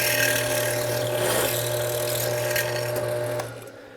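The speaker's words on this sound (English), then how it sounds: "I'm going to go ahead and drill the rest of the way through" A steady, loud mechanical whir with a grinding rasp runs continuously as a drill bores through aluminum, tapering off near the end.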